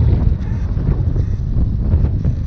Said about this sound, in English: it is windy as all hell out here